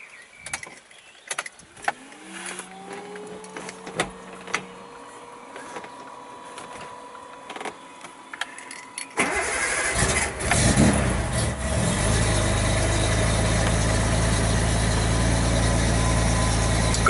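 A Datsun 280Z with a modified exhaust cranks briefly and fires up, then settles into a loud, steady idle with a rough, rumbling tone that carries on for several seconds.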